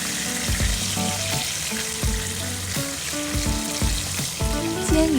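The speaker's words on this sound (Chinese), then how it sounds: "这个时候呢，我们将鱼在反面稍微2边再煎一下。" A piece of fish fries on its second side in a hot pan with a steady, dense sizzle and scattered spits, while melodic tones sound faintly underneath.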